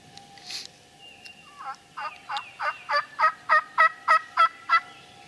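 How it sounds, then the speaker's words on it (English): A turkey hen gives a run of about a dozen soft, evenly spaced yelps, growing slightly louder, with a quieter call just before. "A couple soft yelps."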